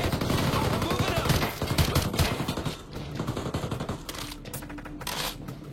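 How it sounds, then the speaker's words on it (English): Gunfire in a firefight: loud, dense bursts of rapid automatic shots crackle continuously, close and overlapping, with shorter volleys trailing off toward the end. "Shoot those assholes!"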